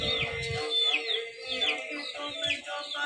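Chickens on a farm, a rooster among hens, clucking and calling in repeated short bursts, close and clear with a few low thumps.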